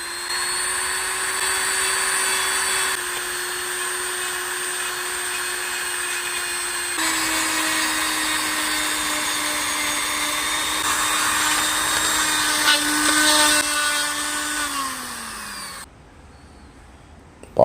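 A power sanding tool polishes an old Abelia bonsai stump, whining steadily at close range before the motor winds down and stops near the end.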